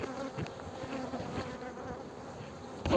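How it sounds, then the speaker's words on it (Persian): A honeybee buzzes close to a beekeeper at the hives, a steady continuous drone that holds throughout, with a louder burst near the end as it passes close. "این زنبورم داره میاد درست سر من"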